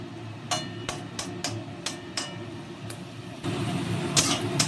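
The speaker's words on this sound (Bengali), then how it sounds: "এবার আমি এটাকে ভালো করে নেড়ে নেড়ে ভেজে নেব" Banana stem being stirred and fried in a wok gives a run of quick, sharp scraping strokes over a low steady sizzle. The frying grows louder and busier toward the end, and no one talks.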